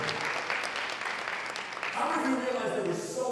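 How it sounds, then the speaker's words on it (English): Applause from a leadership summit audience in Jamaica fills the room, steady and fairly loud throughout, with a voice speaking over it toward the end. "let's give him a round of applause"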